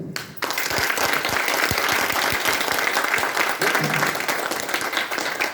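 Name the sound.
applause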